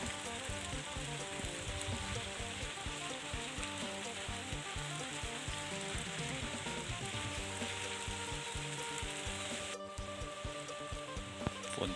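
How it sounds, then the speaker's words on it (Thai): Steady dense patter of heavy rain falling during a morning rainstorm over rice fields at harvest time, a continuous close wash of sound with no talk. "ฝนตกแล้วเนาะ"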